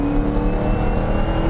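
A race car's engine drones steadily and loudly through a racetrack corner, a continuous close whirring roar with no break.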